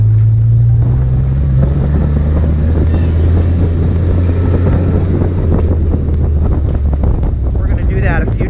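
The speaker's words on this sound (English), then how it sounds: "We're gonna do a second gear pull here, so we're gonna go under light or heavy load, low RPM" A car engine under load in a second gear pull at low RPM during an autotune session, a steady loud low drone and rumble running the whole time, with wind noise over it.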